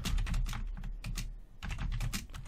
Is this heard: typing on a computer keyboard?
yes